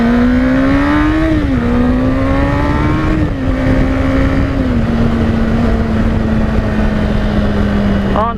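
Honda CBR600RR sport bike being ridden after a fork seal job, engine droning loud and steady close up with a slight rise in pitch early, then settling into an even cruise alongside wind noise.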